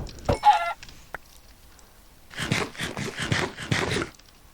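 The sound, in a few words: chicken clucking in Minecraft video game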